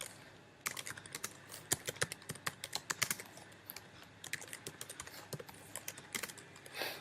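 Rapid clicking on a computer keyboard as C code is written, dense irregular bursts of close, crisp keystrokes with brief pauses between them.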